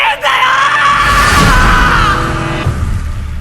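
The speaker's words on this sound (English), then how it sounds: "There's that classic and awesome Eren scream from Attack on Titan" Eren from the anime Attack on Titan lets out a long, loud, strained male scream that swells and holds for a few seconds before trailing off into rough breathing.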